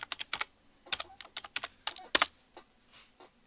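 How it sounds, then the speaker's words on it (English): A password is typed on a computer keyboard in a quiet room: a quick, uneven run of about twenty close, crisp key clicks, with one sharper tap near the middle. "And now you can type in your password."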